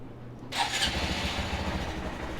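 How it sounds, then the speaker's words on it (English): A Honda Monkey motorcycle engine cranks and catches abruptly, then settles into a steady, fairly quiet idle close by with no talking. "so I'm gonna go ahead and start the bike up."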